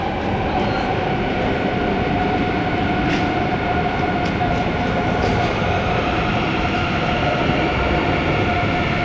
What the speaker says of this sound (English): Here's the long distance train station.